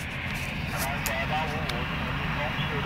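A KLM airliner taking off, heard as a steady, fairly distant engine roar that continues throughout, with people talking nearby.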